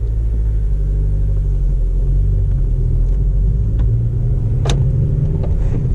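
A 2009 Honda Civic Si being driven, with a steady, loud low engine rumble and road noise inside the cabin, plus a brief click partway through.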